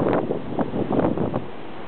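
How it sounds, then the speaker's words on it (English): Gusty wind blows steadily on a windy day by a lake, buffeting the microphone in broad rushing surges with no voices present. "on a windy day"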